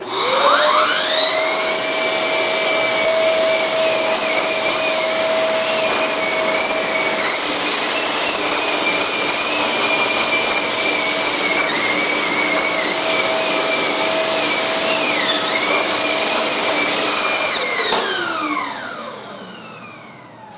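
A vacuum cleaner fitted with a turbo brush attachment runs continuously with a loud, steady high whine and a slightly wavering pitch, then spins down at the end.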